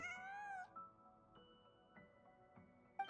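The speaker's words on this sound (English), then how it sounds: "Huh. Just a cat." A cat in Genshin Impact gives one clear, drawn-out meow up front, then softer game ambience with faint tonal chimes continues quietly behind it.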